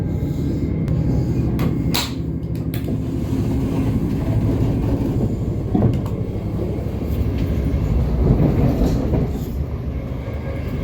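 A Thameslink Class 700 electric train rolls steadily along the track, a continuous rumble with occasional clicks and rattles, close and loud throughout.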